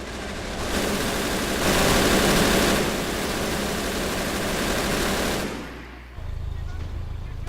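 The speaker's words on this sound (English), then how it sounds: "Home Guard half track seems to be pushing up" Half-track vehicle engine advancing in the Men of War: Assault Squad 2 war game, a dense, loud mechanical drone mixed with battle noise and a voice, cutting out briefly before a lower engine rumble resumes.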